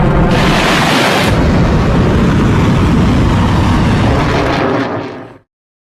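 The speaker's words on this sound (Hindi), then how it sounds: "ईरान ने बैलिस्टिक मिसाइल दाग दी है" Iranian ballistic missile launch, heard as a loud continuous roaring blast that holds steady for about five seconds and then fades out.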